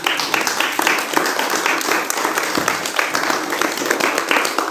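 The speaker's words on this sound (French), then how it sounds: "on peut l'applaudir" Audience at a French talk on secularism applauds a guest speaker, steady dense clapping from a room of people filling the moment, no voices rising above it.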